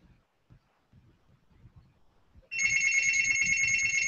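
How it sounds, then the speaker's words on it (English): After a couple of seconds of quiet rustling and faint movement, a telephone starts ringing abruptly, a bright, continuous electronic trill that stays loud and close until the end. "Phone's ringing."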